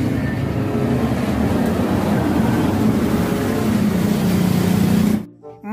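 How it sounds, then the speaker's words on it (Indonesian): A toy cement mixer truck gives off a steady, loud mechanical rumble and whir that runs unbroken for about five seconds, then cuts off sharply, leaving a short quieter stretch at the end. "Mobil truk molen."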